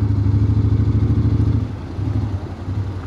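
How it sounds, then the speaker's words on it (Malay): A motorcycle passes on a road in Thailand, its mid-pitched engine droning close and steady with a rhythmic pulsing, then easing and dropping slightly in level as it moves on. "Alah, ada motor ni pula."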